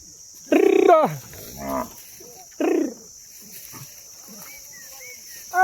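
Several cows on a farm moo in turn, the first a loud close bellow, then a softer one and another strong low call, with faint bird chirps and quieter background.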